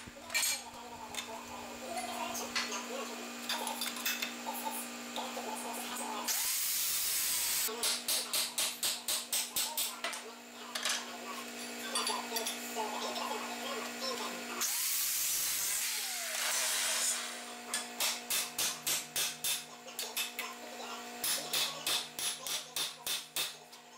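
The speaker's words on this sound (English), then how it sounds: "Now just finishing up grinding and smoothing" Angle grinder grinding and smoothing metal on a sawmill blade tensioner mount: a steady high whine with bursts of harsh grinding, rhythmic pulsing passes that come and go, close and loud.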